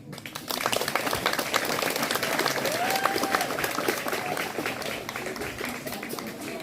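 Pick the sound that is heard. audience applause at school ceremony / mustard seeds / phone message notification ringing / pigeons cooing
audience applause at school ceremony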